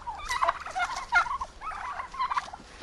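Domestic turkeys in a village yard gobble in several bursts of warbling calls, close and clear, with no talk over them.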